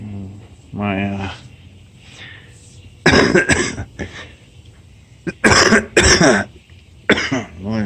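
Several harsh coughs in bursts, close by, from grease-cleaning fumes while working on a 1968 AMX trunk, with some spoken voice before and between them.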